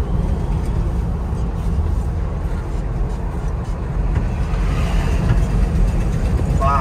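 A 1968 Ford F-250 Highboy 4x4 with a four-speed drives in fourth gear, its engine giving a steady low rumble heard from inside the cab, with road and wind noise and a slight swell in load near the end.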